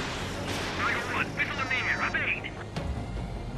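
A missile strike and explosion in the jet combat game Ace Combat 7: a rumbling blast and crackling impact layered under game radio chatter and the player's voice, with a sharp thud near the end.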